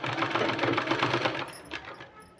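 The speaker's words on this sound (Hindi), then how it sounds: "दोस्तों हमने 2 इंच का फैब्रिक पट्टी लिया हुआ है, इसमें इस तरह से सिलाई लगा देना है" Sewing machine running a line of stitches along a 2-inch fabric strip for a sleeve design, a continuous close whirring and rattling that slows and fades near the end.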